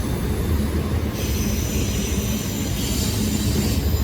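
A long freight train with a distributed power unit rolls past close by in a continuous heavy rumble, with wheel squeal and the faint clatter of cars over the rails.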